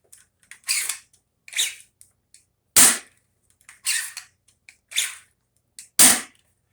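A 3D-printed Weyland SOCOM blaster with a stiff 10 kg long-shot spring is primed repeatedly. Sharp, gritty ratcheting bursts come about seven times, some louder than others, separated by short silences and heard up close.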